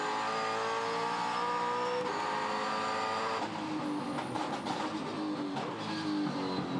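A V8 touring car at Queensland Raceway accelerating hard and shifting up through the gears, its engine note dropping and climbing again with each change, loud and continuous.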